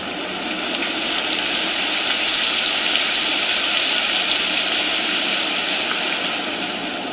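HoMedics Deep Sleep sound machine on its rain underwater setting, giving a steady, hissy wash of rushing noise that runs unbroken and even at moderate loudness throughout.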